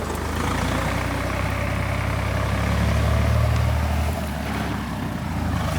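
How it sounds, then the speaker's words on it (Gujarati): A tractor hauling an eight-ton load of sugarcane pulls away, its heavy diesel engine droning steadily and loud, swelling midway and then easing as it moves off, with no talking over it. "ટ્રેક્ટર જો રવાના થઈ ગયું"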